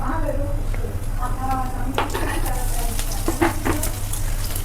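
Asafoetida and cumin crackle and sizzle in hot oil for a dal tempering, a steady frying hiss with small pops and stirring clatter, over a low background hum.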